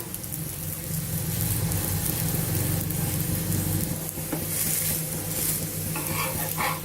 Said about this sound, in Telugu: ఇలా ఇంకొక సైడ్కి తిప్పుకుంటూ అడ్జస్ట్ చేసుకుంటూ ఫ్రై చేసేసుకోవాలి